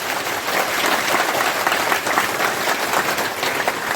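Crowd applause at a protest sit-in outside a district office in Sangrur, Punjab, a steady dense clapping that holds loud and even throughout with no talk over it.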